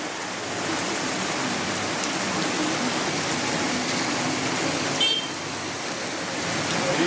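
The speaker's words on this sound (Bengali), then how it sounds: "মহালয়ার দিনই একেবারে মুষলধারে বৃষ্টি হচ্ছে।" Torrential rain pours down in Purulia during a thunderstorm, a steady, dense roaring hiss of water that holds at an even level for several seconds, with no one speaking.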